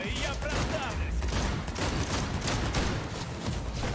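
Gunfire rattles steadily in the DDO video game, a dense run of close shots and bursts that lasts several seconds, with voices talking faintly underneath.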